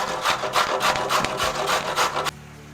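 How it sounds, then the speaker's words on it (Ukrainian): A medium carrot is grated in rapid, rhythmic rasping strokes, close and fairly loud, stopping abruptly near the end. "Одну середню морквинку натираємо."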